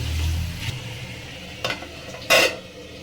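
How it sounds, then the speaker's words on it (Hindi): Half a bowl of water poured onto frying dal with spices gives a brief hiss, then quiet bubbling simmer with a couple of sharp spoon or pot clinks close by. "मैं दाल को गलाने के लिए डालूँगी आधा कटोरी पानी"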